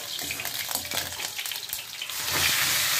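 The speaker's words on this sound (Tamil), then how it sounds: "இப்போ கருவேப்பிலை போட்டேங்க." Curry leaves hiss and crackle in hot oil for an eggplant oil curry, a close, steady sizzle with small pops that swells louder and brighter near the end.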